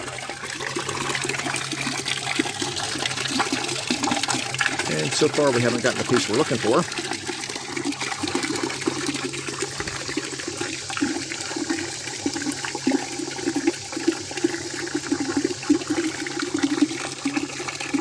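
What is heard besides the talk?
cooling water flowing out of engine water pump intake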